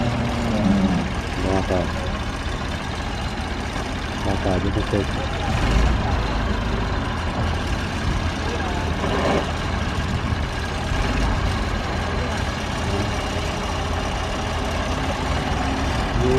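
A Massey Ferguson 290 tractor runs steadily beside a river, its low diesel drone continuous and fairly close throughout, with someone talking over it.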